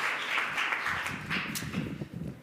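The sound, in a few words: applause for a team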